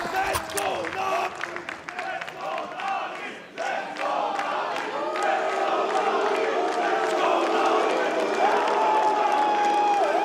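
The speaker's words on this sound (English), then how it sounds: "the crowd getting riled up" Arena crowd at an ESL Pro League Counter-Strike quarter-final between TheMongolz and NAVI roaring and cheering steadily, with shouts and whoops rising over a dense, continuous wall of crowd noise.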